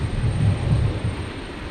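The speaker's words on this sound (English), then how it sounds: "367 coming in on 19 right, the Dash 8 400 arriving from Rockhampton." Dash 8 400 turboprop arriving at Brisbane Airport on runway 19 right, heard as a low, distant rumbling engine drone that swells slightly and then fades.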